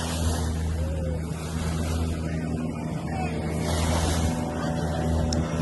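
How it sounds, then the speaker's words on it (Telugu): A boat rocking up and down at a river mouth where the river meets the ocean, with a loud continuous engine drone and rushing water throughout, close and unbroken. "బోటు మొత్తం ఇట్లా పైకి కిందికి అవుతుంది"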